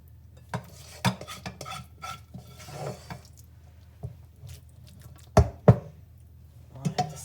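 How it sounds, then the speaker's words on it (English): A spoon scrapes and taps against pots and bowls while Mexican rice is dished out, scattered clinks and a couple of sharper knocks with quiet stirring between them. "try and dish that out evenly"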